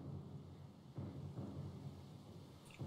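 A thunderstorm at sea in the video game Pillars of Eternity 2: Deadfire rumbles low and steady, with soft thunder swells and a continuous rain-like wash at moderate distance and low volume.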